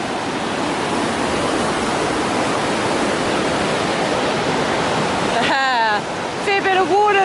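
Steady broadband rush of the Piute River flowing under a bridge near Seldon Pass on the Pacific Crest Trail, loud and continuous, with a brief bird chirp near the end.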